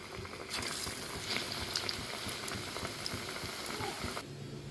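Spinach and onion bajji fritters deep-frying in hot oil over a medium flame, a steady dense crackling sizzle running close and loud throughout, with no voices.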